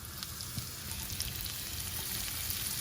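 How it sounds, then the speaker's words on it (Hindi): Hot oil in a frying pan for shallow frying crab, a continuous quiet crackling sizzle heard up close with no voices. "जैसे फ्राइंग पैन गर्म हो गया, मैं यहाँ पे तेल डाल रहा हूँ।"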